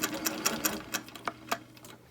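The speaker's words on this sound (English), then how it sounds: "line it up with the red circle, and stitch all the way around" Sewing machine stitching a quilt, a run of sharp, rhythmic needle clicks and whirring bursts, near and fairly loud with brief pauses between.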